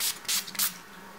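Urban Decay All Nighter makeup setting spray is misted onto a face in three quick hissing spritzes, close to the microphone, with short gaps between them and no talking.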